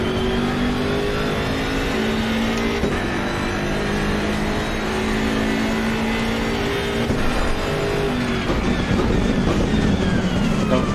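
A BMW M6 GT3 race car in Assetto Corsa Competizione, its engine revving hard toward the red line with rising and falling harmonic pitch through gear changes, loud and continuous for the whole stretch.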